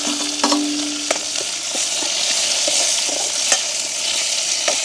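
Small onions, green chilies and curry leaves fry in hot oil with a steady close sizzle, broken by occasional light scrapes and taps of a stirring spoon.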